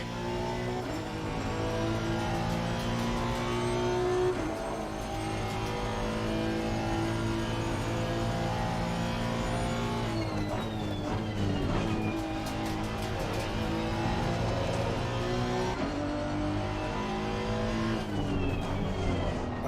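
A race car engine in the game Assetto Corsa Competizione drones loud and continuous, revving through gear changes with rising and falling pitch, a break in the note near the midpoint and faint tire noise.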